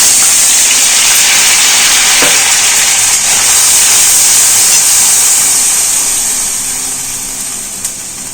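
Whole spices (bay leaf, garam masala, cardamom, clove, cinnamon) with ground ginger and green chilli frying in a pan over low heat. A loud, steady sizzling hiss runs throughout and softens slightly toward the end.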